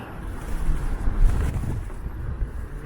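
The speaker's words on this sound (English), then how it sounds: "the wind is really whipping up again because we're once again in an intersection with tall buildings" Strong wind gusting at a city intersection among tall buildings in Toronto, a continuous heavy low rumble buffeting the microphone with swelling gusts, no talk.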